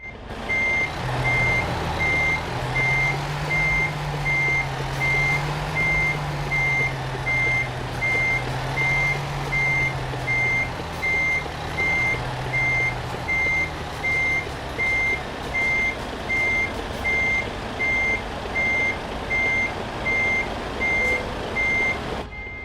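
A truck in Euro Truck Simulator 2 sounds its reversing alarm in a steady, evenly spaced run of loud beeps over a continuous engine hum, with no talk.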